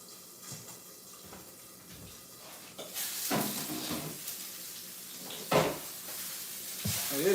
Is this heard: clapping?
no